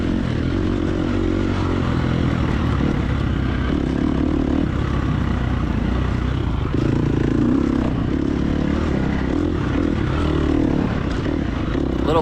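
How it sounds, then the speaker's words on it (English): Off-road dirt bike engines drone continuously through a hare scramble race, a close rough motor note with a second engine's buzz blended in, steady and loud with no talking. "Hear that other engine, it's still right there."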